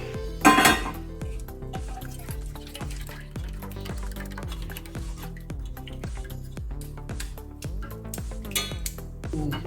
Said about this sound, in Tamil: இப்போ இதை நல்லா கரைச்சி வடிகட்டிக்கணும்.